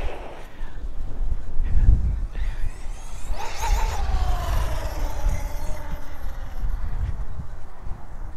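An Arrma Kraton EXB 1/8-scale RC car makes a fast flyby outdoors, its electric motor whine rising and then falling in pitch as it passes close, over steady rumbling background noise.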